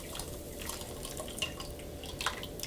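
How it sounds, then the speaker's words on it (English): Lye solution for cold-process soap poured through a strainer, a soft, steady trickle with scattered small drips at close range and no talking. "let me get my strainer because I always strain my lye."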